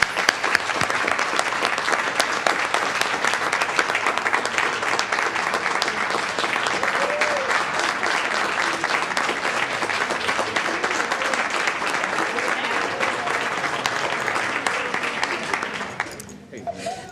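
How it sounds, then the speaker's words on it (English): Audience applause at a Board of Education meeting honoring school principals, steady and dense for about sixteen seconds before fading out, with some voices mixed into the crowd. "So round of applause."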